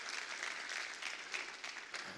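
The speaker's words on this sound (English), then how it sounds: "ladies and gentlemen, a round of applause for our distinguished panelists" Conference audience applause for the panelists at the close of a panel session: dense, continuous clapping at moderate volume, heard alone and lasting about two seconds.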